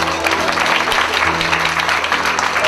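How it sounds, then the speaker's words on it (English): Wedding guests at a reception give a dense round of clapping that continues through the whole stretch, with some crowd noise mixed in. "How about another round of applause?"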